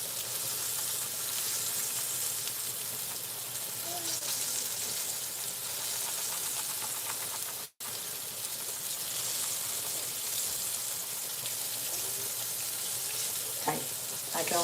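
Pork chops fry in a pan with a steady, bright sizzle throughout, broken by one very brief gap and a few light clinks near the end.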